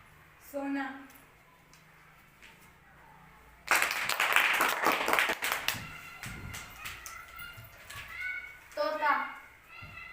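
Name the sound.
children clapping for correct answers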